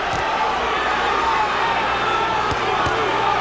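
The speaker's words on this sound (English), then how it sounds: "Crowd chanting, Johnny, Johnny, Johnny." A dense, loud boxing arena crowd at the Johnny Tapia vs Danny Romero fight, a steady roar of many voices that may be chanting the fighter's name, with a few faint thumps underneath.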